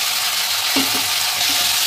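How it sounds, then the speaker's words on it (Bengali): Boiled potatoes for a Mumbai-style vada pav filling frying in a pan, a loud, dense sizzle running throughout with a few soft stirring scrapes and no voices. "এবার সেদ্ধ আলুটা ভালোভাবে নেড়ে চেড়ে নেব। প্রথমে একটু ভেজে নেব, এইভাবে নেড়ে চেড়ে।"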